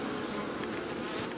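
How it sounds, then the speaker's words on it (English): A dense swarm of honey bees hums continuously during removal of their comb from inside a pop-up camper, a loud close buzz with no voices. "there's a lot of bees"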